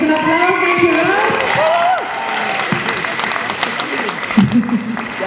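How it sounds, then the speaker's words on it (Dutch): Applause and crowd noise from an audience at a Kunstbende award ceremony, sustained across the whole stretch as a second-place winner in the photo category comes forward, with a voice speaking over the clapping. "Nog eens een applaus, dankjewel."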